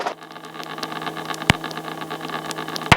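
Helicopter engine with the throttle opening, a steady droning hum and rattling vibration inside the cabin, with two sharp clicks or knocks.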